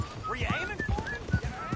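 A horse in Red Dead Redemption 2 clip-clops along in quick hoofbeats, with a short whinny over it, while someone shouts urgently at the horse.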